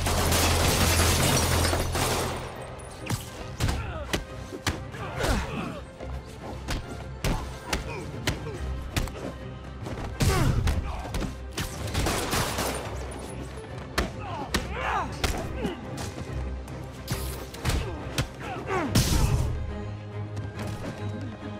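Game gunfire as thugs shoot at Spider-Man during a safe robbery, mixed with heavy impacts, slams and thuds from brawling, loud and busy throughout with brief shouted voices.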